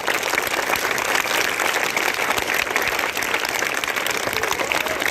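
A school audience at a Republic Day event in Chandauli, Uttar Pradesh claps steadily for soldiers, a dense, even wash of many hands that holds at the same loudness throughout.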